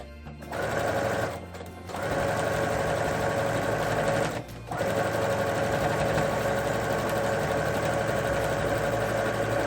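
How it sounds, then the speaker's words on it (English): A home sewing machine runs steadily while stitching across a quilted pot holder, its motor whirring loud and close with a fast mechanical stitching rhythm, pausing briefly twice before starting up again. "So I'm just going to sew right across here."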